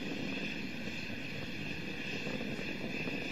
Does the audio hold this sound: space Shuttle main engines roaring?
yes